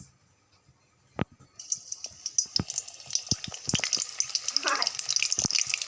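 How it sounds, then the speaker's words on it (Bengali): Soybean chunks drop into hot oil in a kadai for deep frying, starting with a few sharp clicks and pops, then a steady bubbling sizzle with crackles over it. "ভাজার জন্য আমি দিয়ে দিচ্ছি এইগুলো সয়াবিনগুলো"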